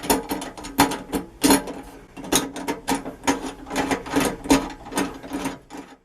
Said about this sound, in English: What I'm doing is I'm tightening these bolts down before I get the garbage disposal on the bracket.